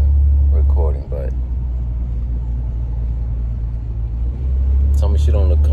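Steady low rumble of a car driving along a road, heard from inside the cabin, with brief voices at the start and end.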